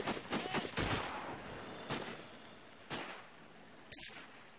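Gunshots from the sniper video game Sniper Ghost Warrior ring out as a quick cluster of sharp cracks, then single spaced shots roughly once a second, crisp and fairly faint against a quiet backdrop.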